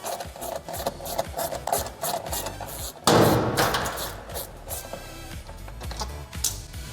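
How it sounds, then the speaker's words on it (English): A 10mm socket ratchet working out the screws of a washing machine drain pump: rapid rasping ratchet clicks and metallic scraping, close up, growing louder partway through. "we're gonna go ahead and grab our 10mm socket, and we're gonna start working these 3 screws out of there to remove this drain pump"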